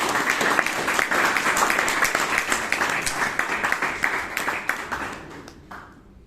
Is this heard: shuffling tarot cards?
no